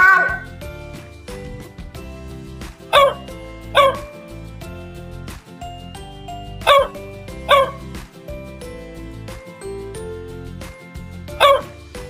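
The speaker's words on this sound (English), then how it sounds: "D for dog. D for dog." A dog barks in short, sharp bursts, about six spaced across the stretch and some in quick pairs, heard over a continuous musical backing from a children's alphabet song.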